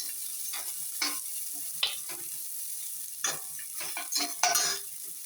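Ingredients with raisins and coriander leaves sautéed in a pan for coconut rice, a soft constant sizzle under intermittent scraping strokes of a spoon, several sharper clatters near the end.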